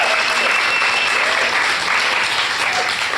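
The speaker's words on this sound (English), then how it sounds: "give a huge round of applause" A live audience at a talk gives a big round of applause, dense continuous clapping at an even level from start to finish with a faint whistle-like tone above.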